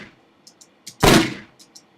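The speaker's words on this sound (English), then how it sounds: "the cannon blast, and then the cannonball whizzing by, we have a sound that sounds a little bit like this" A designed cannon blast sound effect: one short, deep boom with a quick fading tail, framed by a few faint ticks before and after.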